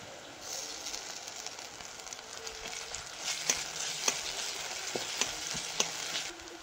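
Crushed garlic fries in hot oil in a pan for a shol fish curry, a continuous close sizzle with occasional sharper pops and stirring clicks.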